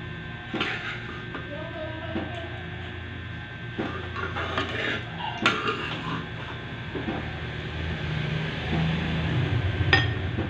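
A cooking pan knocks and clinks as oil is taken out of it, scattered metallic clatters and scrapes spread over a steady hum, close by, with no talk.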